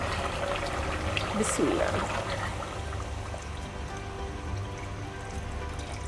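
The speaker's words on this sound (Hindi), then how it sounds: "अब हम इसमें डालते हैं पानी" Water pours into a pressure cooker of fried beef being made into haleem, a steady trickling splash beneath a brief spoken word, continuing at an even, moderate level.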